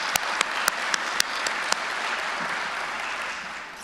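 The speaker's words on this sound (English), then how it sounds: "I think a round of applause is the very least that we can do for them." Applause fills the hall at a fire training graduation ceremony, a broad wash of clapping with a few sharp, close claps standing out early before it gradually tapers.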